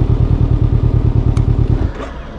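A Can-Am Ryker three-wheeler's engine chugs at a steady idle, close and loud, then cuts off abruptly, leaving a low fading rumble.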